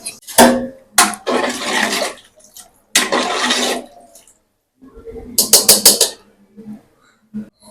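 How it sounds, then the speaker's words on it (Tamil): Water gushes into a cooking pot for goat leg soup in several separate splashing bursts with short pauses between them, the last pours coming in quick choppy spurts. "தண்ணி வேணுங்கிற அளவுக்கு ஊற்றி"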